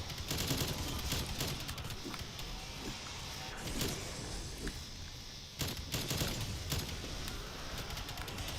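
Gunfire in Black Ops Cold War Zombies on the Die Maschine map: repeated bursts of automatic fire mixed with mechanical clatter, heard at moderate distance and fairly faint.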